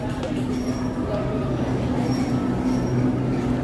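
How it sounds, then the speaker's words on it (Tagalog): Interior of a new Japanese-built LRT Line 1 train running, with a steady low rumble and hum filling the car throughout, along with faint background chatter. "Ito yung bagong train mula Japan"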